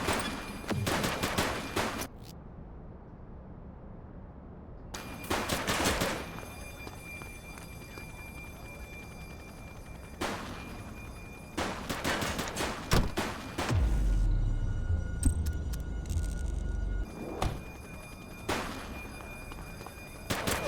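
Gunfire in the police video game The Precinct, with several separate loud bursts of rapid shots breaking through a quieter ambient game background and a low rumble in the middle, fairly close.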